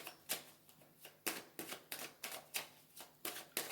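Oracle cards being shuffled and laid out for a nine-card mirror oracle spread, with about ten crisp riffling bursts at a fairly regular pace, close and quiet, no voices.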